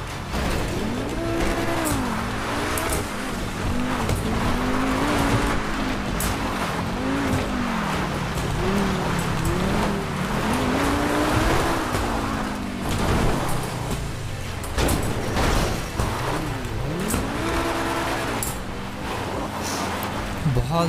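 Bugatti and Lamborghini supercars, including a Bugatti Super Sport and a Bugatti Bolide, racing in GTA 5, with engines rising and falling through gear changes, repeated tire squeals and a continuous loud roar, a voice talking throughout.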